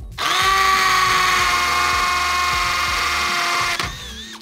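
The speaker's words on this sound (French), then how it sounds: "Il faut qu'elle soit à percussion pour que ce soit aussi facile de percer ce type de trou." A corded hammer drill runs continuously for about four seconds, loud and close, boring a hole with a steady high whine and a rapid percussive rattle underneath, then stops abruptly.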